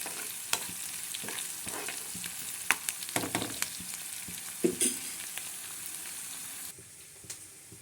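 Fenugreek leaves frying in a pan on a low flame give a steady close sizzle, broken by several sharp scraping stirs and clatters from a spoon. The sizzle drops quieter near the end.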